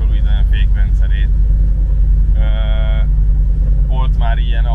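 Steady low rumble of an Alfa Romeo Giulia being driven, heard from inside, running continuously under people talking.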